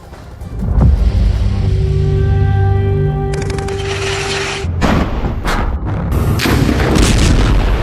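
Heavy bombardment in Gaza during the war, with deep booming blasts and rumbling artillery-like explosions, loud and close, one sustained roar followed by several sharp impacts and debris-filled crashes.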